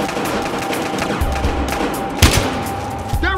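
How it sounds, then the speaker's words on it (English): Gunfire bursts from the Battlefield Hardline video game in a shootout at the Elmore Hotel, steady popping shots with a sharper loud crack near the middle, over a low game soundtrack. "Shots fired."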